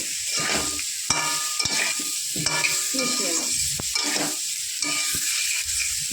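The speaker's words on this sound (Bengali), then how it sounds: "মিশিয়ে কষিয়ে নেব মশলাটা কষানোর জন্য সামান্য পরিমাণ একটু জল ব্যবহার করবো" Ground spices with turmeric and chili powder being stir-fried in a pan with a splash of water, an ongoing sizzle broken by repeated scraping and clinking strokes of a spatula against the pan.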